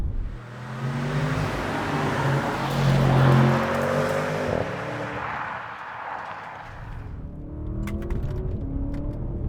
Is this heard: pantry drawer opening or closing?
no